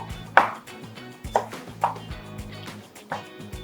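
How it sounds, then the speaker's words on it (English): Broccoli being cut up with a knife on a board, heard as four separate crisp chopping thuds at uneven intervals against a quiet kitchen background. "I'm just breaking down the broccoli quickly."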